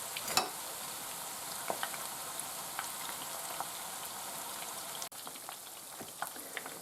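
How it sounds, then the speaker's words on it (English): Greek meatballs frying in a pan, half the batch at a time, give a steady close sizzle scattered with small crackles and pops, with no voices. "Fry half of them first and then do the other half."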